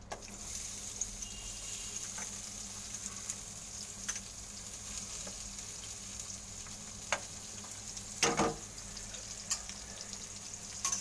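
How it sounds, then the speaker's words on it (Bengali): Onions frying in mustard oil in a pan, a steady close sizzle with a few sharp stirring clinks and scrapes, fairly quiet and without talk. "পেঁয়াজগুলোকে আমি একটু ভাজা করবো।"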